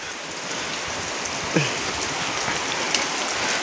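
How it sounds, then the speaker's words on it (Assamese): Steady rain falls in a continuous, even hiss on surfaces, close and fairly loud, with a brief faint knock partway through. "বৰষুণ বতৰ একদম বহুত মজা।"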